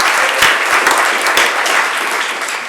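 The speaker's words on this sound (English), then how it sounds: "Everybody give Martin a nice round of applause" An audience at a Jewish humor presentation breaks into a round of applause, dense loud clapping filling the room without pause and easing slightly toward the end.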